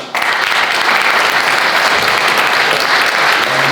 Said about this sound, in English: So, round of applause for lads.